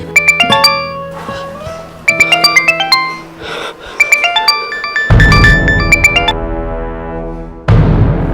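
A bright, chiming phone ringtone plays loud and close, repeating its rising melodic phrase several times with short pauses between.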